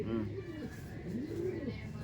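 A pink-eyed pigeon coos close by in repeated low, rolling, rising-and-falling calls over a steady background hum.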